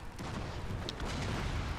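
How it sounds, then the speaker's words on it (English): Cannons boom through a Prussian battle in a video game, a dense, continuous rumble of distant artillery fire without clear separate shots. "now I'm tired of listening to the cannons"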